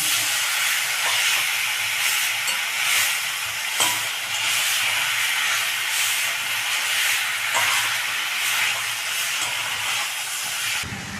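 Ridge gourd tipped into a pan of fried spices sets off a loud, continuous sizzle with bursts of crackling hiss, close and unbroken, with no voices.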